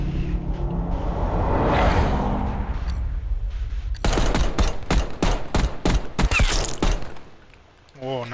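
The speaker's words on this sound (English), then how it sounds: "nice shots there from KJ" Gunfire in a competitive video game match: rapid bursts of shots crackle in a dense, rhythmic volley over steady game ambience, loud and close.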